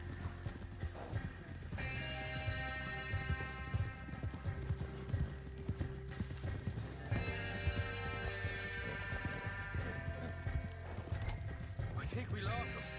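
Steady clip-clop of horse hooves at a gallop runs throughout in Red Dead Redemption 2, with a horse whinnying, over a bed of layered music and occasional voices.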